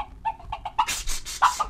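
A hen in a palace hall from a Spanish folk tale, clucking in a quick series of short, close calls that build into louder, excited squawks.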